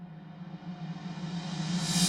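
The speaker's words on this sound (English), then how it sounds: "a reverse snare sound with a big old reverb sound on it" A reversed snare hit drenched in a big reverb swells steadily louder over about two seconds, a washy hiss building toward a sudden peak, with a low steady hum beneath.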